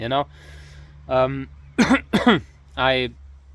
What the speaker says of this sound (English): I can't cough like that in the video